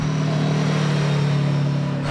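A Yamaha VMax motorcycle exhaust idles with a steady, low throbbing rumble, close and loud, holding an even pitch before cutting off abruptly at the end.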